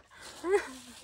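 A dog on a countryside tour in southeast Bohol gives a single short whimpering yip, fairly faint and brief against quiet outdoor background.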